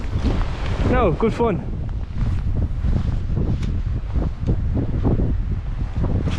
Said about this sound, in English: It's very windy, I hope you can hear me.